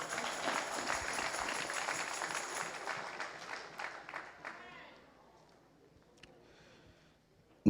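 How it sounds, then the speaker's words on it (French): Audience applause fills a church convention hall, a dense, steady wash of clapping that thins out and fades to near silence after about five seconds. "nous applaudissons pour ça"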